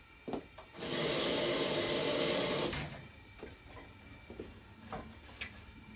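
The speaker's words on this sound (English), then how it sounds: "Just gonna wash my hands one second" Tap water running while someone washes hands in a kitchen, a steady close rushing stream for about two seconds, then quiet handling sounds and splashes afterward.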